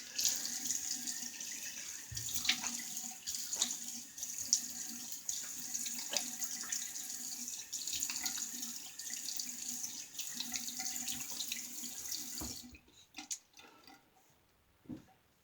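A tap runs steadily to rinse a 1949/50 Gillette Executive safety razor, a constant close hiss with small splashes and clinks, then the flow cuts off near the end, leaving a few faint knocks.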